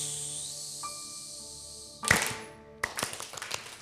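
A group practising the balloon clap produces a slow swell of hissing build-up, then a sharp burst of clapping, a brief pause, and a second round of rapid, uneven claps up close.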